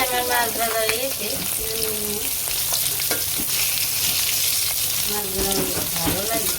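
Fish fry and sizzle in hot oil in a village kitchen pan, a steady crackling hiss with occasional sharper spits and stirring scrapes, while a voice talks at times in the background.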